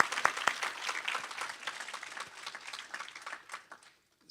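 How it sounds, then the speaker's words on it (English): A lecture audience claps in a fairly quiet, scattered round of applause with individual claps audible, thinning out and fading toward the end. "please give Tatiana another round of applause"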